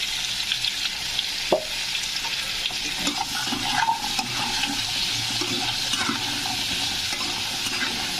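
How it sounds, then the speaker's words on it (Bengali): Potato pieces frying with a little salt in a pan, giving a steady, loud sizzle and crackle with occasional stirring scrapes throughout, no voices. "এবার বাকি আলুগুলো ভেজে নিই।"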